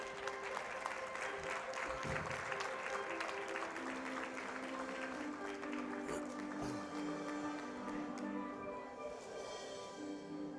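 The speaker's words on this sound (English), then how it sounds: "let's have a big round of applause for all of our award winners tonight" Award dinner guests applaud the evening's winners with sustained, even clapping throughout, while background music plays underneath at a modest level.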